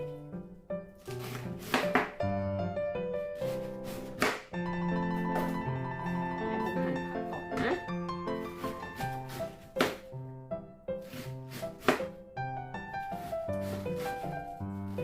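A knife chops cabbage repeatedly on a board in uneven bursts of quick taps, with music playing underneath throughout.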